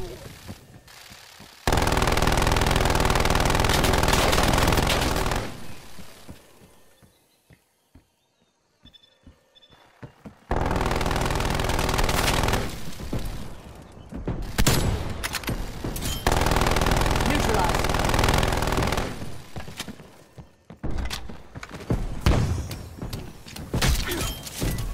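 Sentry turrets in a multiplayer shooter video game fire in long, loud, sustained bursts, broken by a brief quieter lull, with scattered sharper shots and game effects.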